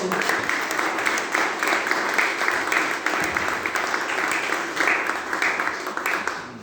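A church congregation applauds in a sustained burst of clapping that rises and falls in loudness, with voices heard among the applause.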